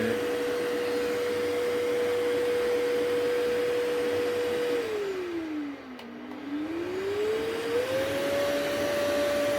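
A Kiwi 4325 carpet and sofa washing machine, an 800-watt unit, runs with a steady loud suction whine whose pitch drops and then climbs back as the suction load shifts, constant and close.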